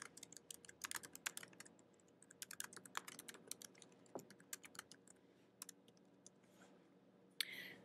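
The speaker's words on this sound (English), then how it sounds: "I'm just going to type in a few words if you'll just wait patiently for me to finish typing" Steady typing on a computer keyboard, quick irregular bursts of clicking keystrokes with brief pauses between, fairly close but quiet, with no voices.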